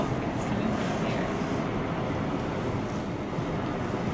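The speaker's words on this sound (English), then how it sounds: "Now that's a big old waterfall right there. Yeah, and you can hear it. It's like roaring." A waterfall roars steadily as a cruise ship, the Disney Wonder, sails past on an Alaska cruise. The dense, constant rush is fairly loud and continuous, mixed with wind buffeting across the whole stretch.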